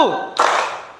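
A short voice is followed by one sharp, loud group clap from children in a classroom clapping game, which echoes briefly in the room.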